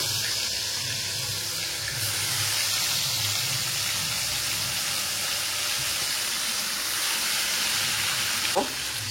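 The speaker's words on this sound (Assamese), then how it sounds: "এয়া মাছ এতিয়া ফ্ৰাই কৰি লওঁ মাছখিনি এয়া এপিচকে ধুনীয়াকৈ ফ্ৰাই কৰি লওঁ" Pieces of big fish fry in hot oil in a pan, a continuous loud crackling sizzle that stays steady throughout, with a brief clink near the end.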